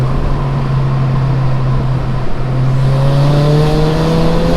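Steady loud engine drone from a tuned 310 bhp Ford Fiesta ST under acceleration, heard from inside the car with a sustained tone that climbs slightly near the end, no talk.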